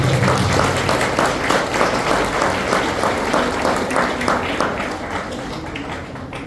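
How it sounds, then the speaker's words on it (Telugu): A church congregation at a First Holy Communion and Confirmation service applauds, dense, loud clapping filling the space and slowly thinning toward the end. "సో మీ అందరి చప్పట్లతో వారికి అభినందనలు తెలియజేద్దాం గట్టిగా"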